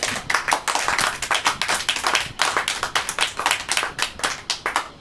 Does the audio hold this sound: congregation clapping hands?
yes